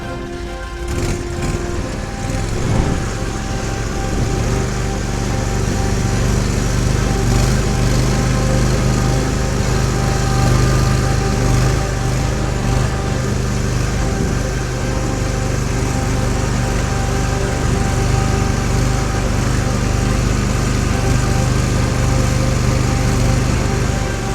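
An Argo 8x8 amphibious off-road vehicle descends a steep 40-degree slope with its engine revved to keep the CVT engaged, producing a loud, steady, close motor drone that holds throughout without pause.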